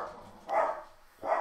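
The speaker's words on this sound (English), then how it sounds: "The dogs are making an appearance, as always." Dogs make two short, muffled barks or yips a little under a second apart, fairly close and moderately loud in a quiet indoor room.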